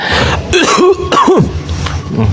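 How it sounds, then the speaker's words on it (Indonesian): Several harsh coughs in quick succession, close and loud, with a short pause between bursts. "Baru kena batuk aja."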